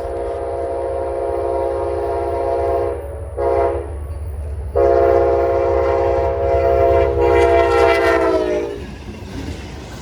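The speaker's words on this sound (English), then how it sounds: "we see the southbound Amtrak Crescent at track speed" The southbound Amtrak Crescent passenger train passes at track speed near Meridian, Mississippi: a loud, close horn sounds in several long blasts with short breaks, over a constant rolling rumble of the wheels.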